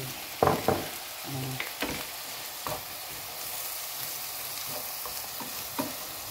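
Scrambled egg and vegetables stir-fried in a pan for fried rice, with a few distinct spatula scrapes early on, then a continuous close sizzle and occasional stirring taps, no talking.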